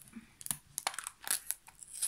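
Short crackling and ripping noises, like tape being peeled off cardboard in quick tugs, close and fairly quiet.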